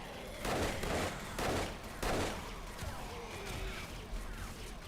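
Automated turrets fire in the 7 Days to Die video game in loud rapid bursts: three heavy volleys in the first two seconds, then lighter continuous rattling.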